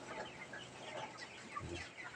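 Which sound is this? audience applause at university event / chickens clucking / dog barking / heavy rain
chickens clucking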